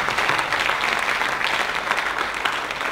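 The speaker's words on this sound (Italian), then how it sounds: "Faremo un applauso." A live audience applauds steadily at a space-week event showcasing regional excellence, a dense, even clatter of many hands lasting throughout without voices.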